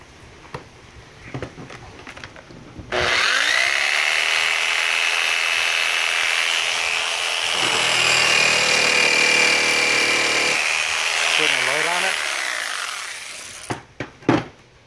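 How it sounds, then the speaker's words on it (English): Cordless drill powered by a homemade rechargeable 12-volt battery pack, whirring steadily for about ten seconds close by, with faint clicks and handling noise before and after. "I just put a load on it with a drill,"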